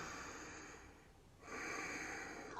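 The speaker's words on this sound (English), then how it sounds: "breathing in and out through the nose" Slow nasal breathing during a yoga class, with a long audible breath through the nose, a brief quieter pause, then another strong nasal breath, heard close with no talking.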